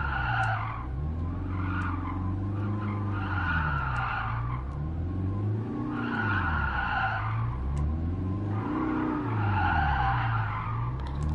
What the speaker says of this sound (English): We can spin some tires